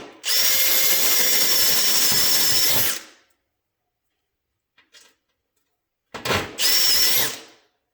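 A power riveting tool sets rivet nuts into the fender of a custom 1955 Dodge one-ton truck, with a loud, steady whir lasting about three seconds, a short silence with faint clicks, and then a second burst.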